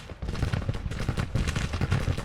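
Sustained Civil War rifle volleys aimed at artillery batteries in Grand Tactician: The Civil War, a thick, continuous rattle of overlapping shots with irregular bursts, fairly loud and steady across the clip.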